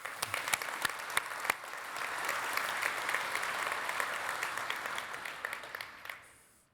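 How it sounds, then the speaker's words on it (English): Conference general session audience applauding, a dense wash of many hands clapping at moderate distance that holds steady for several seconds and then fades out. "We all need to give Gene and his team a round of applause for Edge 10."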